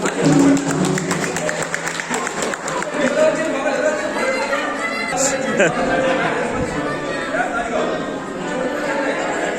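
Audience clapping at a celebration in a function hall, the claps mixed with crowd chatter and music, steady and fairly loud throughout.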